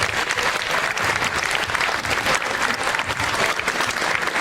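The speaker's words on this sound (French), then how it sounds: "Veuillez l'applaudir s'il vous plaît." Audience applause at a beauty pageant gala fills the space, dense steady clapping from a large crowd throughout with no break.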